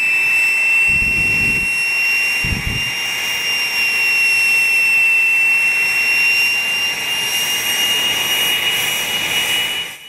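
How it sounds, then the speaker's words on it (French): Jet-powered motorcycle at full throttle before a crowd, its turbine roaring loud and steady throughout with a high whine, punctuated near the start by two deep, booming afterburner bursts. "un bruit assourdissant et de nombreux coups de post-combustion, cette moto a consommé ses 40 litres d'essence en moins de 7 petites minutes"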